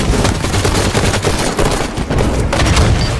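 Halo 5: Guardians shotgun fire in a multiplayer match, a dense, loud barrage of overlapping shots and booms that runs continuously without pause.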